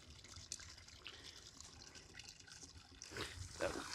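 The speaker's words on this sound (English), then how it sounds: "That will drain all the water out." Water trickles and drips out of an opened drip irrigation line during winterizing, a faint, uneven splashing outdoors that grows a bit louder toward the end.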